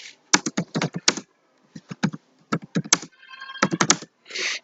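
Clicks of a computer keyboard as a MATLAB command is typed, crisp close keystrokes in quick clusters separated by short pauses, with no voice over them.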